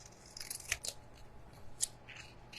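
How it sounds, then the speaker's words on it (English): Big, old, cheap scissors snip through paper cards at close range, a few sharp crisp cuts spaced irregularly, with quieter rustling of paper between the snips. "Look at my big honking scissors."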